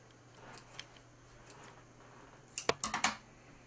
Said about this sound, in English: And then you cut each strip into pieces, I would say about the size of a miniature marshmallow.